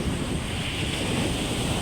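Big sea waves rolling onto a beach shore, a continuous loud roar of surf mixed with wind buffeting the microphone, steady and dense throughout with no voices.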